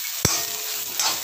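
Mashed raw banana sautéing in a pan gives a steady sizzle, broken by a sharp scrape of a spatula near the start and another stirring scrape toward the end.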